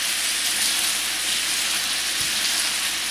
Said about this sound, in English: continue to do that the whole time it's frying until you get it broke up really, really good